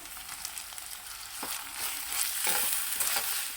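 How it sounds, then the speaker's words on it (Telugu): Chopped tomato pieces frying in a pan for a tamarind-leaf prawn curry, a steady bright sizzle with occasional spoon stirring scrapes, fairly close, growing slightly louder, no talk. "ఈ టమాటో ముక్కలు మెత్తగా మగ్గేంత వరకు ఫ్రై చేసుకోవాలి."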